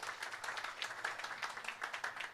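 A round of applause for Dr. Chetan at a data science round-table conference at JAIN University: faint, distant clapping from the audience, steady and scattered for a couple of seconds, with no talk over it.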